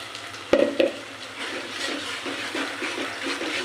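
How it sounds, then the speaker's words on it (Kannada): Spices tempering in hot oil for an egg curry, giving a short sharp crackle and hiss that settles into a steady, moderately loud sizzle close by, with no talking. "ಈ ಥರ ಒಗ್ಗರಣೆ ಕೊಡಬೇಕು ಚೆನ್ನಾಗಿರುತ್ತದೆ"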